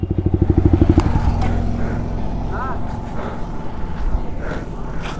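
Motorcycle riding in cool weather, the engine thumping in a rapid pulse at first and then settling into a steady rumble with road clatter, while a rider talks over it.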